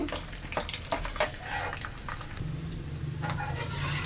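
Chana dal fries in oil for Andhra pulihora tempering with a crackling sizzle and a few stirring scrapes, and a low hum enters later on.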